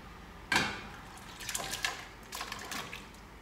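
Watermelon rind dropped back into boiling sugar syrup for jelly: a sudden splash at the start, then several softer wet plops and sloshes as pieces settle, fairly quiet and close.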